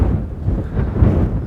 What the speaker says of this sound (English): Wow, that's quite windy.